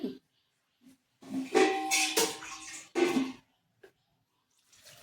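Water is poured into a pressure cooker holding bones with ginger-garlic paste and turmeric for Chettinad-style bone kuzhambu, heard as several short splashing bursts with pauses between them, close and moderately loud.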